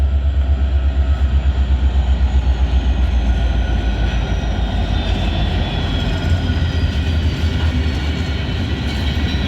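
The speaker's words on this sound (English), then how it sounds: "SD70. Bringing some grainers over here." Brand-new SD70 locomotive pulling grain hopper cars past BNSF tracks, a loud close rhythmic rumble of wheels and diesel drone with a faint high squeal, gradually fading.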